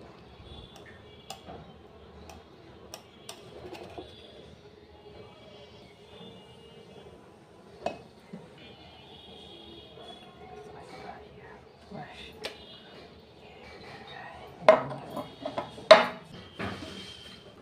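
A knife is run around the edges of a homemade pudding in its mould, heard as faint scattered ticks and light scrapes, with a cluster of sharper, louder metallic clicks near the end.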